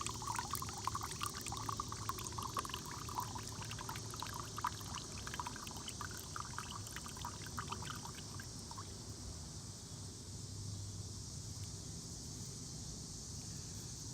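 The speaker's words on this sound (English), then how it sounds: "I'm gonna get all the juice out." Juice from a fresh coconut pours and trickles into a cup, a soft continuous liquid stream that is faint and close, with no talking.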